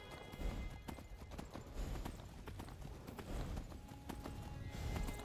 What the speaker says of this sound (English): I'll take my horse